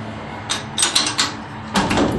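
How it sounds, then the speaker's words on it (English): A hot dog cart door is pulled shut inside a two-person stand, giving a few close knocks and rattling bumps, with a final firmer thud as it closes. "There's the door, which I'm going to pull closed."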